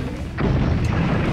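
Explosion in the video game Rampage Through Time, a sudden boom that swells into a dense, sustained rumble lasting over a second, loud and close with no talk over it.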